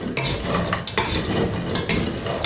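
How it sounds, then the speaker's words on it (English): Milk mandazi batter being mixed in a bowl, with steady close stirring and scraping and occasional sharper utensil knocks against the bowl, no talking. "Just continue mixing."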